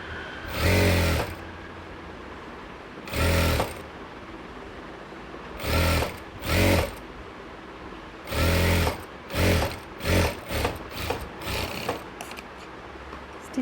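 Bursts of a sewing machine stitching along a fabric edge for a churidar sleeve, short whirring runs stopping and starting, growing quicker and choppier toward the end, close and clear.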